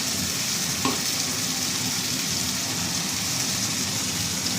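Spice paste thinned with the water from grinding the spices fries in a pan for Boal fish, a dense, steady, rain-like sizzle close by with no talking.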